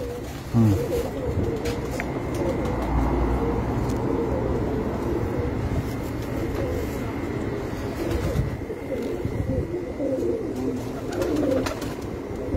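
Racing pigeons kept in a rooftop loft coo and murmur amid a busy outdoor din, with traffic-like rumble and occasional sharper sounds beneath the steady birdsong.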